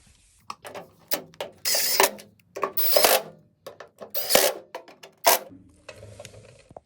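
Hardware screws are driven by hand into a Ford Bronco tailgate, with close, irregular bursts of scraping, ratcheting and clicking separated by short quiet gaps.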